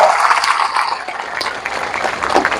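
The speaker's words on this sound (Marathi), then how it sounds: "जोरदार टाळ्या" Crowd applause at a political rally in Mudkhed, a dense steady wash of clapping that holds at a loud, even level for the whole stretch, with no voices over it.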